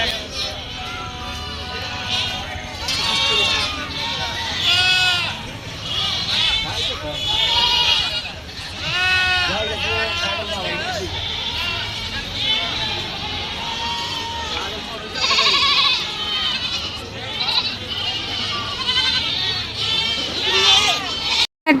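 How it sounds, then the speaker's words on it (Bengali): Goats bleat repeatedly at a busy rural goat market, many overlapping calls near and far over a constant crowd murmur and chatter. "তো এটা শুধু ছাগলের হাট, আরও অনেক ছাগল উঠেছিল"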